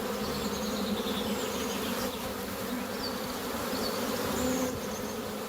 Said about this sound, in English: A lot of people think that queen bees are bumblebees, but they're not.